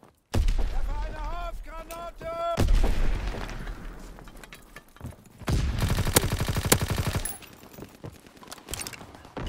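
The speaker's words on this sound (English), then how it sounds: "Incoming enemy artillery." Enemy artillery fire in Call of Duty WWII, with booming blasts and rapid gunfire bursts in the second half, mixed with an in-game voice announcement and other game sounds.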